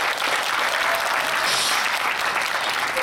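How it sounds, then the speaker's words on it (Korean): Audience applause at a 2018 Korean film critics' awards ceremony, a thick continuous wash of clapping from a large hall crowd, steady and even throughout, no talk. "뜨거운 박수 부탁드리겠습니다."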